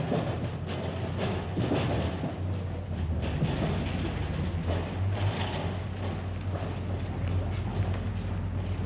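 A train rumbles along rails near Plymouth, a dense, continuous low roar with faint rhythmic clatter, loud and close throughout with no pauses.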